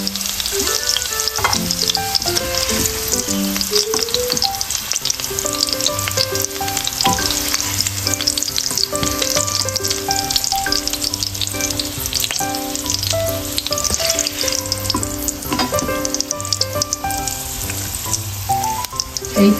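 Potato pieces fry golden in hot oil, cooked ahead of a Bangladeshi-style beef and potato curry. A dense, continuous crackling sizzle runs throughout with no speech.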